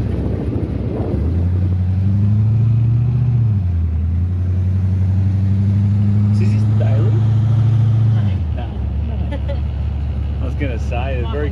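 An LS1 V8 in a Holden HT Premier idles and rumbles steadily up close, with a brief rise in revs early on; engine note drops away near the end as people talk over it.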